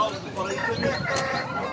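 Village hens cluck close by at the Edirnekapı poultry market, their choppy calls running under steady market chatter and people talking nearby.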